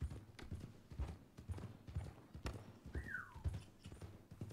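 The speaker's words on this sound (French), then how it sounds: "justement le cheval qui me suit là" Horse hooves clip-clop at a steady walking rhythm in the Red Dead Redemption video game, soft and close, with one brief whinny-like call partway through.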